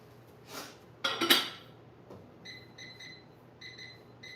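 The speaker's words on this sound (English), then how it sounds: "I'm gonna cover the quinoa and let it simmer for like 15 minutes" A metal lid set onto a pot of simmering quinoa on the stove, giving a couple of quick metallic clinks and clatters, followed by faint high beeping in a quiet kitchen.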